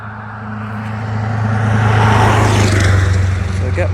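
Car passing by on a nearby road, the engine and tire noise swelling from quiet to a loud close pass and then easing off, with someone speaking briefly over it.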